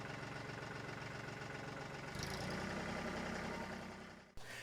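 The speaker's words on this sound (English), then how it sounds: "I said rev the engine up just a little bit and your loader will work quicker." A tractor engine with a front loader idles steadily at close range, a low continuous rumble that shifts to a slightly fuller, louder drone midway before a brief dip near the end.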